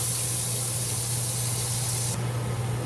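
Ginger sizzles and spatters steadily in hot oil in a pan, a loud continuous hiss with no breaks.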